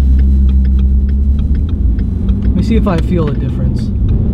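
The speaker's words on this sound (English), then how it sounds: "I'm gonna drive it down the street and see how she feels." 2015 Ford Mustang driving down a street after an oil change, its engine a steady loud rumble from inside the car, with someone talking briefly over the drone.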